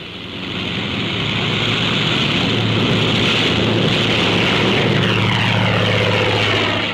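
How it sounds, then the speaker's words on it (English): A propeller-driven carrier plane roars steadily during takeoff in a 1944 wartime setting, its loud engine drone swelling and holding close throughout with a buzzing, windy edge. "A carrier plane takes off, relying solely on propeller thrust."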